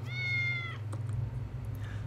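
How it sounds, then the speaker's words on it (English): A cat meowing in the video game Tales of the Neon Sea, a single clear drawn-out meow lasting under a second over a low steady game music hum, followed by quieter background sounds. "How did you end up in there, you silly cat?"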